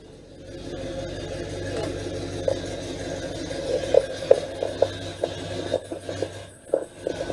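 A 1966 Pontiac Bonneville engine idling roughly and stumbling as if about to stall, a low uneven rumble with irregular knocks and sputters that grow more erratic toward the end.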